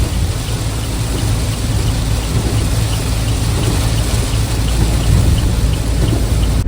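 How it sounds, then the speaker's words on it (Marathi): Heavy rain pours down steadily in a dense, continuous roar, with a low rumble underneath throughout. "एवढा पण असा पाऊस बापरे"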